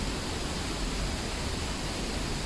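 A waterfall in the Chiapas jungle of Mexico gives off a steady, dense roar of rushing water. The sound is even and unbroken throughout, with no voices.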